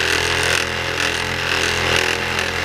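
A small handheld buffer polishes the clearcoat on a Ninja motorcycle. Its motor gives a steady, continuous whirring drone at close range, with no pauses and no voices.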